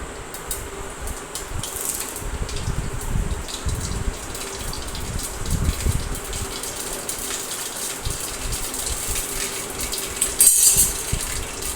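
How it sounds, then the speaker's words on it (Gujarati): Mustard, cumin and fenugreek seeds with pepper sizzle and crackle in hot oil, a steady close frying hiss with scattered popping seeds throughout. "તેલ તપી ગયું છે. હવે રાઈ, જીરું, મેથીના દાણા અને મરી નાખીશું આપણે."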